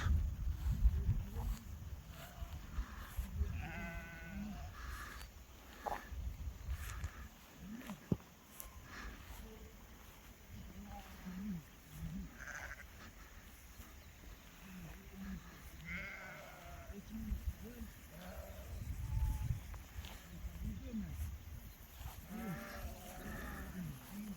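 Sheep bleat repeatedly at a moderate distance during shearing at a highland pasture, over a low, steady background rumble, with scattered bleats overlapping throughout.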